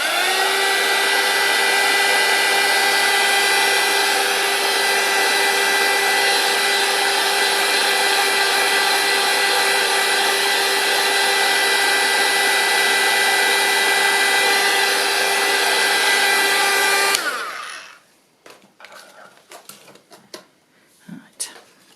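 A heat gun dries a handmade craft card with a steady, loud, high whine lasting about seventeen seconds. It then cuts off abruptly, leaving faint handling clicks.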